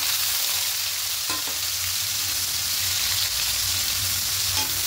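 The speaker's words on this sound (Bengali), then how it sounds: "রসুনটা একটু ভাজা হয়ে গেছে, এবার এখানে আলু পেঁয়াজটা দিয়ে দেবো।" Potato and onion sizzle in hot oil with fried garlic and ginger, a loud, constant hiss with only a couple of faint utensil taps.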